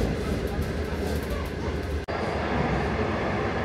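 Steady rumble and rushing noise fill the carriage of a Chinese slow passenger train, with a brief dropout partway through as the running sound continues evenly on both sides.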